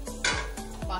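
Vegetables for manchurian cooking in a pan give a soft sizzle under repeated scraping strokes of a spoon stirring them, a few close stirs across a second with no talking.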